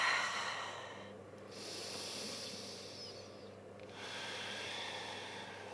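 Slow, deep breaths in a yoga class, each soft airy exhale hissing for a second or two, with quiet pauses between them.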